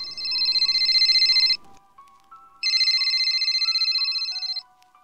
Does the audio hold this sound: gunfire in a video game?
no